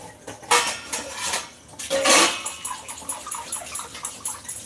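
Dishes being scrubbed and clattered by hand, with bursts of scraping and clinking of pots and cutlery, close by, in uneven spurts.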